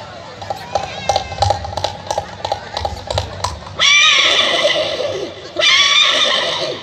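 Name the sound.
imitated hoofbeats of one horse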